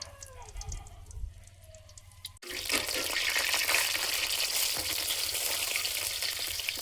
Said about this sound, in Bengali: আগে চচ্চড়ি বসাই শুকনো লঙ্কা ফোড়নে দেবো